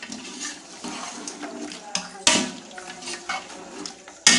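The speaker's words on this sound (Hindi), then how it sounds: "अभी हम मिक्स कर लेंगे इसको भी अच्छे तरीके से और इसको फ्राई करना है।" Chicken for pulao being stirred and fried in a pot, with a spoon scraping and clanking against the metal in irregular bursts, two sharp knocks standing out over a soft continuous sizzle.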